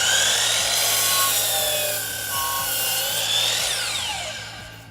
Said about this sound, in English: So let's go to the chop saw and get this cut.